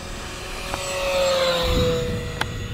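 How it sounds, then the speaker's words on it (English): E-flite Air Tractor 1.5m RC crop duster plane making a full throttle pass, its electric motor whining as it approaches and passes overhead, rising and then fading, with no talking. "I'll do a full throttle pass over here"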